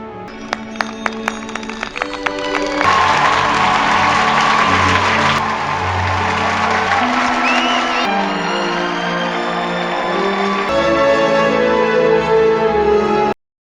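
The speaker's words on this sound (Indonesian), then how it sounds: "kehadirannya disambut dengan tepuk tangan meriah dari seluruh aula" A great hall full of people cheers and applauds a returning figure in a film scene, a loud sustained wash of clapping and whoops swelling after a few sharp opening hits, with music underneath.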